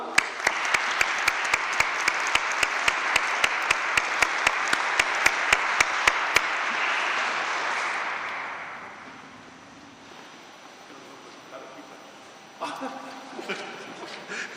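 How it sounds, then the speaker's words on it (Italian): An audience in Trieste gives warm applause to a speaker, a dense, loud wash of many hands with a few sharp individual claps, swelling and then fading over several seconds into quieter room noise and shuffling. "La ringraziamo con un bel applauso."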